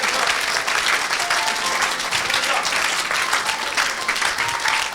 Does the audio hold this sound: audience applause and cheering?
yes